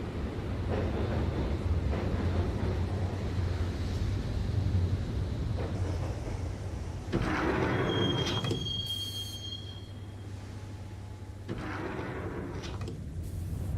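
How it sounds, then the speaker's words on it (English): Subway train ride in the Max Payne video game: a steady low rumble of the rail car rolls on throughout, with metallic wheel squeals and a high tone rising midway, close and continuous with no talk. "the train doors had already shut behind me, and I was in for the ride"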